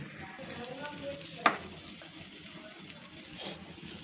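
Gram flour pieces shallow-fry in a little oil in a pan with a gentle steady sizzle, broken once by a sharp clink of a utensil.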